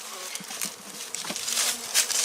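Honey bees from other hives robbing a dead-out hive that died over winter with stores left inside, a dense close buzzing swarm that swells louder toward the end.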